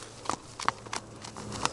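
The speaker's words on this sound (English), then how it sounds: "One more horse." Horse hooves clip-clopping outdoors, a handful of scattered, fairly faint hoof strikes at an irregular walking pace over a low background hum.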